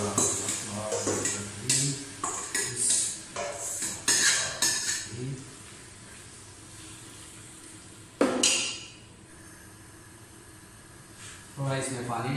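Marinated chicken goes into a pot for Hyderabadi dum biryani in a cooking setting, with metal clatters and scrapes of utensils against the pot, then a loud sizzling hiss partway through, while a person talks.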